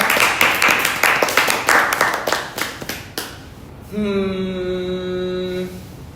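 Clapping from a small group of K-pop group members during an interview, a quick run of close, sharp claps fading out, followed by a sustained tonal sound after.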